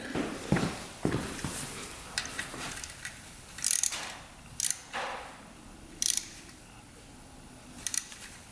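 Loose oil line fittings being tightened with a hand tool on an old 500cc two-stroke motorcycle, close metallic ratcheting clicks and scrapes in uneven bursts with a few sharper clanks.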